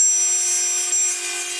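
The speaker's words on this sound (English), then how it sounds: "I'm gonna run each of these through a table saw and remove an eighth to a quarter of an inch off of each side" A table saw hums loud and steady as it trims thin strips off the sides of wood boards for a bench, with a brief dip in tone midway.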